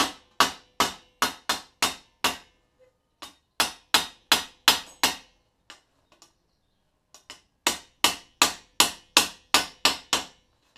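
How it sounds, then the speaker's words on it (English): A hammer beats metal edges over a stake while working on a Villiers Panther Model 50 motorcycle. Sharp, ringing blows land in quick, even bursts of about six to eight, with short pauses between groups, close and loud. "the edges of both can be beaten over a stake to create something more like a pressing"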